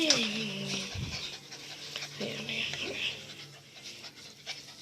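A female puppy pants rapidly and close by, with quick rhythmic breaths, while a person talks over it.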